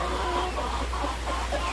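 Chickens cluck softly in a coop during heavy rain, with a few short murmuring clucks close by over a steady low background hum.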